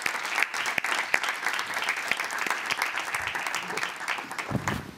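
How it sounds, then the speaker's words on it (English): Audience applause greeting a guest at a women's football group stage draw event, a dense, even patter of clapping held for several seconds at moderate level without speech. "please give a warm applause to Vicky Schnaderbeck"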